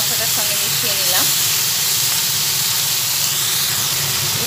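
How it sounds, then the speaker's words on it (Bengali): Cut eggplant tipped into a hot pan of spices for a fish-head and Malabar spinach chorchori, setting off a loud, continuous steamy hiss and sizzle close by, with a voice speaking over it. "এরপরে যে বেগুনটা কেটে রেখেছিলাম বেগুনটা এর মধ্যে ঢেলে দিলাম।"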